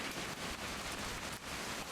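Steady rain falling in the video game What Remains of Edith Finch, a dense, even hiss that runs unbroken at moderate volume.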